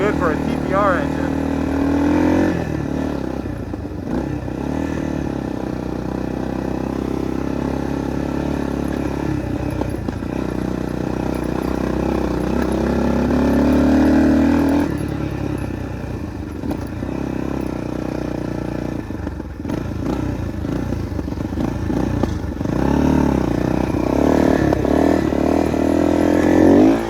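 A 1986 Yamaha BW200 big-wheel motorcycle engine in need of a carb clean runs roughly nearby, surging and dipping unevenly through repeated revs while someone talks throughout.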